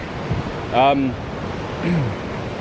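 River rapids rushing at Chutes Provincial Park, a steady broadband wash of water heard from a trail nearby, with brief voices speaking over it.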